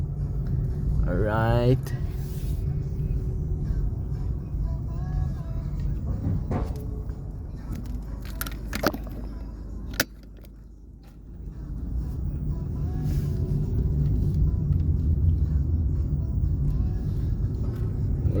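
Low steady car rumble fills an underground parking garage at B3 beneath a sports venue, with an engine note swelling and a brief lull midway, while someone talks over it.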